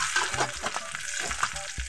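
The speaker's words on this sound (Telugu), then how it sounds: "ఇవన్నీ వేసుకుని ఫ్రై చేసుకున్న తర్వాత కొద్దిగా కరివేపాకును కూడా వేసుకోవాలి" Garlic, mustard seeds, cumin and curry leaves sizzle in hot oil for a raw mango chutney tempering, a steady crackling fry with soft stirring scrapes, close and moderately loud, with no talking.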